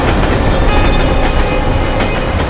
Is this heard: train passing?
yes